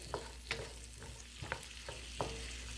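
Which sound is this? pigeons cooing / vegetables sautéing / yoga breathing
vegetables sautéing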